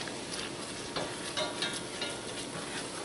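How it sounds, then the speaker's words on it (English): Flour is being stirred into melted butter in a pan to start a roux for a cheesy turnip casserole. A steady, soft scraping and stirring runs under a faint continuous sizzle, close by, with no talking. "Start making a little bit of a roux"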